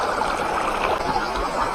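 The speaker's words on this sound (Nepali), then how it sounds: "यहाँ खोला छ" A river stream flows steadily at a riverside cremation ghat, a dense continuous rush and gurgle of water, close and loud throughout with no pauses.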